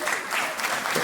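Audience applauding at a stand-up comedy show in a theater hall, a brief dense wash of clapping from a crowd filling the whole moment.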